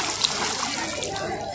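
Water splashing as people bathe in the Ganges at Triveni Ghat, a continuous wash of sloshing and splattering close by, with voices talking over it.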